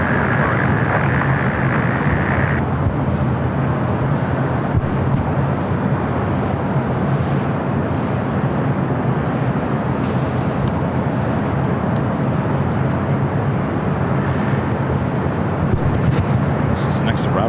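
An American Airlines A321 jet arriving at LAX on runway 24 right makes a loud, steady broadband roar that holds from start to finish, with faint voices and a brief high tone partway through.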